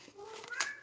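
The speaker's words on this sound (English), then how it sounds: "Sorry guys, I apologize for my cat." A pet cat named Ren gives a short, close meow indoors, a single rising call lasting under a second.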